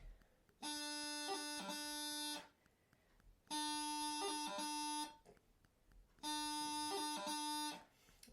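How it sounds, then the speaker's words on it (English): Three identical reedy, buzzing bursts from a bagpipe practice chanter playing a heavy D strike, each a sustained note broken by quick grace-note flicks, separated by short pauses. "This is what's called a heavy D strike"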